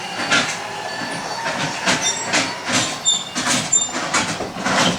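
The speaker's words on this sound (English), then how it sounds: "This one is for your awning, and we'll retract it now." An RV awning rolls in, giving a steady mechanical rattle with repeated clacking pulses and a faint squeak, fairly close, with no talking.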